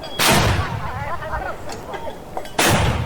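Cannon shots and explosions in a simple C++ MFC cannon game: two loud, sharp bursts, one near the start and one near the end, with a noisy, rumbling tail between them and no talk.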